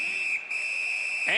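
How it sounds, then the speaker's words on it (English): A referee's whistle in the NHL 19 hockey game, Los Angeles Kings versus Calgary Flames, holds one steady shrill blast over arena crowd noise, briefly dipping before it ends, with a voice starting at the close. "the referee's whistle has stopped play"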